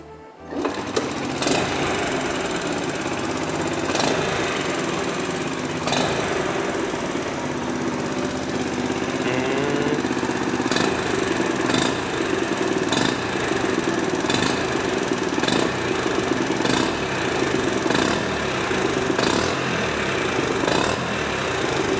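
Customized Honda Super Cub C90 motorcycle engine starts with a sputter, then idles with a steady, fast, chattering beat nearby, occasional sharp knocks breaking through, no voices.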